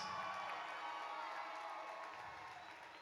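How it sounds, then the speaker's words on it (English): A fight-night crowd at a combat sports event cheers and applauds after a bout, a loud blended roar of clapping, whoops and shouting that slowly tapers off. "big round of applause for that fight of the night performance"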